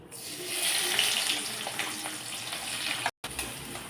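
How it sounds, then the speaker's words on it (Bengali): Chopped onions frying in oil with bay leaf, cloves, cinnamon and cumin give a continuous bright sizzle, close and steady, briefly cut out near the end, with no talking. "পেঁয়াজগুলোকে হালকা ভাজা করে নিতে হবে"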